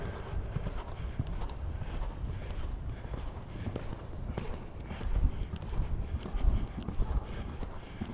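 A horse's hooves thud and clop on the arena footing during show jumping training, a steady rhythmic gait that grows louder and heavier toward the end, with faint background noise.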